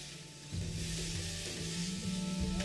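Tomato paste cooking in hot oil with spices for a masala egg omelette curry, a soft continuous sizzle that swells after the first half second and holds steady, with a low stirring rumble underneath.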